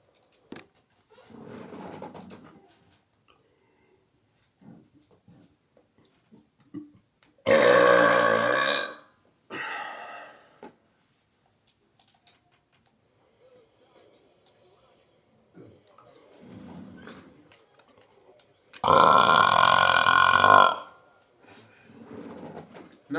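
Two long, loud burps stand out among quieter moments, with someone talking between them while playing Grand Theft Auto 4.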